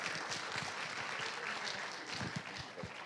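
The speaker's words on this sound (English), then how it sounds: "Okay, so we'll give them a very big applause." Audience applause for the speakers at a healthcare leadership conference session, continuous dense clapping from a sizable crowd lasting the full three seconds with no pauses.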